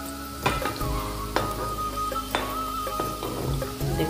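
Shakkar pare, sweet dough pieces, sizzle steadily in hot oil over a low flame, a continuous close bubbling hiss with a few soft clinks of a utensil and no talking.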